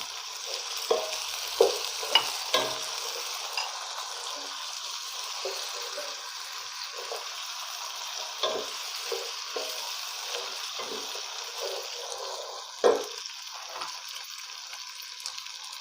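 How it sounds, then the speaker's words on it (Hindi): Whole garam masala, cinnamon and black cardamom, frying in a pan for shahi daal mash, a continuous soft sizzle punctuated by intermittent spatula taps and scrapes, with one sharper clank near the end. "अब हम इसे फ्राई करेंगे।"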